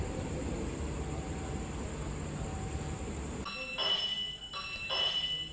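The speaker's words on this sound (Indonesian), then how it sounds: "Berangkat KRL dari stasiun Solo Jebres menuju ke stasiun Solo Balapan" A KRL commuter train departs Solo Jebres station, a broad steady rumble of rolling wagons that cuts off midway, followed by ringing tonal signal-like tones and quieter station ambience.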